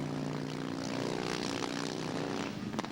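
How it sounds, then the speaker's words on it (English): Vintage Harley-Davidson racing motorcycles, including a JD Harley-Davidson of about 80 cubic inches, roar around a half-mile dirt oval in a continuous loud, throbbing engine drone that stays steady throughout. "Another Harley Davidson battling on this Groove half mile"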